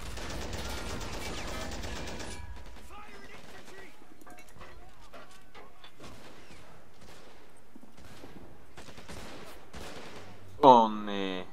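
Rapid bursts of machine gun fire crackle through a World War II battlefield in Men of War: Assault Squad during a D-Day assault, a loud sustained volley at first, then scattered shots and distant rattles mixed with other combat noise.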